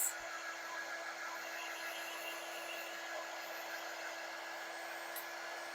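A hair dryer blows steadily to dry a freshly marked quilt block, a continuous close whooshing hum that runs unbroken throughout with no talking.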